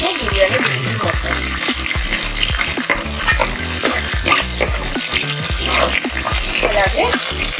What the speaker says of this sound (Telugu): ఆయిల్ బాగా వేడెక్కిందండి, మసాలా దినుసులు వేసుకుంటున్నాను.